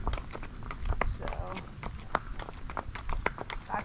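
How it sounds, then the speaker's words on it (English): Horse hooves clip-clop in a steady, moderately paced rhythm of sharp, near knocks on firm ground during a horseback ride outdoors, with soft background noise and occasional voices. "He is a sweet horse."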